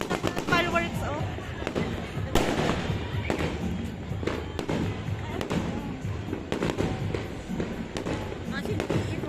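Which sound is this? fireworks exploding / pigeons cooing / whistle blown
fireworks exploding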